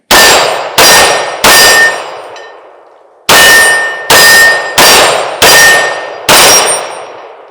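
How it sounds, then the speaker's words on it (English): A Sig P365 Fuse pistol fired eight times in quick bursts with one longer pause, each shot a loud, sharp crack followed by a ringing, metallic decay. "Let's do some shooting."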